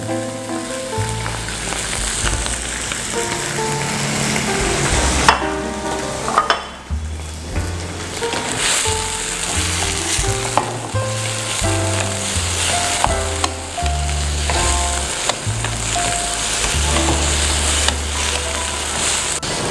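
Mango, garlic and red chili with palm sugar sauté in a pan under a loud, continuous sizzle, with scattered utensil scrapes and clinks close by, while background music plays throughout.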